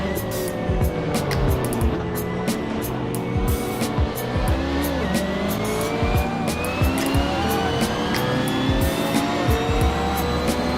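A BMW M3 GT2 race car on the Nordschleife in the racing game Assetto Corsa gives a loud, continuous engine howl, revving up through gear changes with pitch sweeps, tire squeal and another car close by.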